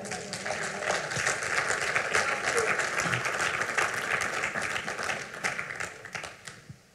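A church congregation applauding and cheering the Lord, a steady wash of many hands clapping together that holds for several seconds before tapering off at the end.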